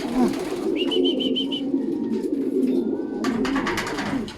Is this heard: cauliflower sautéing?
no